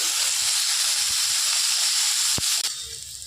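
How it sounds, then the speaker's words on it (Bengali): Beans, radish and potato stirred in hot oil, a loud broad sizzle with steady hiss up close and a sharp knock near the end. "এবার তেলের মধ্যে ভালো করে শিম, মূলো আর আলুটা নেড়ে নেবে বেশি কিছুক্ষণ।"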